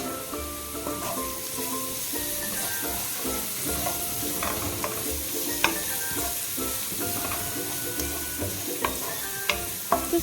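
About two tablespoons of chili flakes fry in hot oil for garlic idli upma, a continuous sizzle broken by frequent scraping stirs and small sharp clicks of a spoon against the pan, close and alone with no voices.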